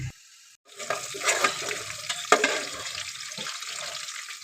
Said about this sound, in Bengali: মটনের জন্য আলুগুলো কেটে ধুয়ে ভালো করে ফ্রাই করে নিচ্ছি